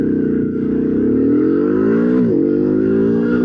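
A 2025 CFMOTO 450 CL-C motorcycle with automatic transmission pulling at full throttle in first gear in low mode, its loud, close engine note climbing steadily in pitch with a brief dip around a shift.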